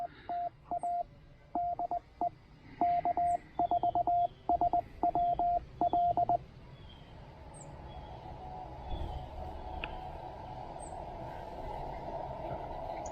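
Signal received on a TR-45 ham radio during low-power QRP operation: a run of short, clipped beeping tones in irregular groups for about six seconds, then a steady hissing band of static with faint chirps.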